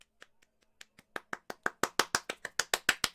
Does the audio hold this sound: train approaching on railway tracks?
no